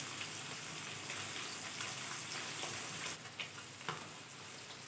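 A steady, crackling sizzle of rohu fish rubbed with salt and turmeric frying in hot mustard oil, continuous and fairly soft, with a few sharper pops toward the end.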